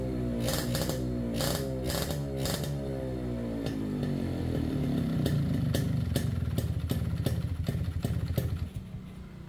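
A Kawasaki Brutos 135 motorcycle engine runs after its carburetor has been cleaned, idling close with a rough, uneven beat and rising revs punctuated by sharp clattering pops, loud and continuous throughout.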